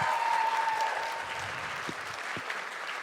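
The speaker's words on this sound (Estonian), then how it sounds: "alustame sellest, et teeme ühe suure aplausi teile" A live audience at an Estonian comedy talk show breaks into sustained applause, loud at first and then easing slightly into steady clapping that carries on to the end.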